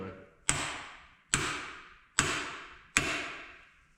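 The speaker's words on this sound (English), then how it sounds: "you're gonna give it a couple of whacks with a hammer right on top here" Four sharp hammer whacks strike the top of a Fox Podium mountain bike shock during a rebuild, evenly spaced about a second apart, each a loud close metallic knock with a short ringing decay, no talking.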